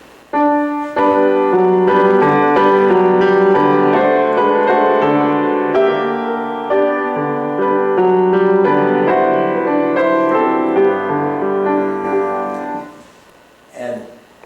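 Full orchestra plays a lyrical melodic theme with sustained harmonies, steady and fairly loud, fading out near the end.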